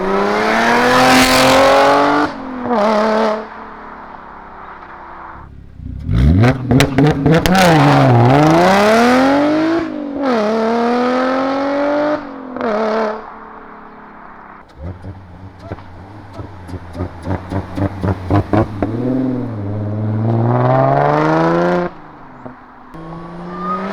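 Dodge Challenger Hellcat V8 with an aftermarket exhaust revving loudly and close, with sharp throttle blips, rising and falling pitch and crackling bursts, as people talk between the revs.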